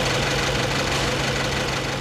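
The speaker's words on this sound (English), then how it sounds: "When cold, even the very latest diesel engine can't hide its origins." Modern diesel engine running cold, a loud, steady knocking clatter over a low idling drone, continuous and close with no voices.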